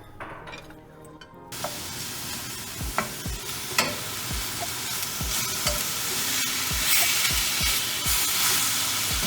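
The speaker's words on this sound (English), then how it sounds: "on medium to high heat, we're gonna cook our ground beef" A pound of ground beef sautés over medium-high heat in a pan on the stove, starting quietly and then breaking into a loud, steady sizzle, with rhythmic scrapes and taps from a utensil breaking up the meat.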